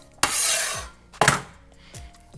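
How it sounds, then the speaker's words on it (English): A sharp knife slices through a head of lettuce on a cutting board, giving two crisp, rasping cuts with brief scraping, followed by a lighter tap near the end. "Now we are going to slice the lettuce."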